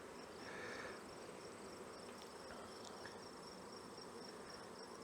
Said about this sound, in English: They're just chock full of bees.